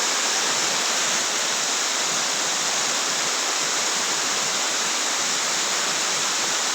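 A waterfall at Brahmagiri roars as a dense, constant rush of falling water, loud and close, with no other sounds.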